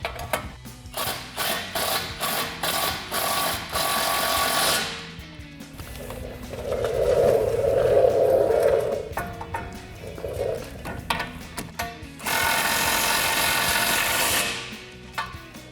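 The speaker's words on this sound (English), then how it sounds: "we can take a 17mm socket to tighten down our bolts" A ratchet with a 17mm socket tightens winch tray bolts on a Jeep Gladiator JT, rapid clicking runs in bursts with pauses, then a steadier grinding stretch and another click run, all close and fairly loud.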